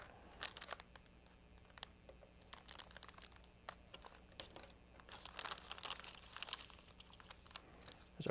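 An Estes model rocket kit's plastic packaging is cut open, producing faint, close crinkling, tearing and snipping sounds in short irregular bursts against a quiet background.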